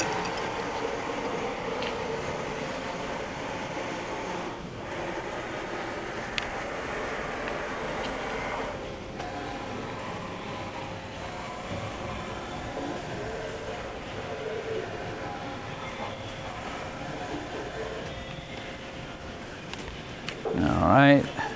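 Carriage travelling along the bed of a 17 by 40 inch Fryer two-axis CNC and manual flat bed lathe, a steady mechanical hum and whir running throughout with a brief louder clatter near the end, speech audible at times.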